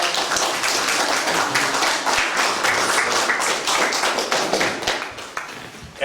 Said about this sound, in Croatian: Može jedan aplauz za našeg dobrodošla.